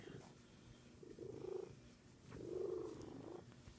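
A cat purrs softly while being petted, the low rattling purr swelling in two rhythmic waves with each breath, close and quiet with no voices over it.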